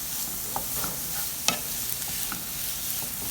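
Ingredients cook with sugar in a pot for Afghan Kabuli pulao, a steady soft sizzle beneath occasional spoon scrapes and one sharper clink, close by with nobody speaking.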